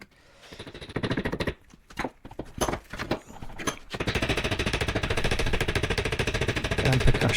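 Rapid metal-on-metal hammering strikes a stuck brake caliper, with bursts of quick blows, short pauses, then a long continuous rattling run of percussion, close and fairly loud with no talk.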